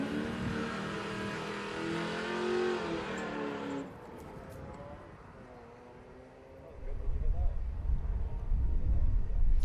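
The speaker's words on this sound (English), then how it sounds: "Leaving the line now and leaving plenty of rubber behind him, it's Gary Stevenson in the SLR Tirana, running 350 Chev power." A Group C touring car with a 350 Chev small block V8 revs hard and pulls away from the line at a sprint event, its engine note rising and fading under a commentator's voice.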